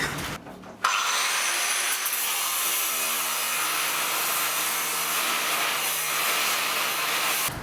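Steel rebar being cut with a power saw to make a sword: after a short lead-in, a loud, continuous grinding whine starts abruptly and holds steady and close for several seconds, with no talking.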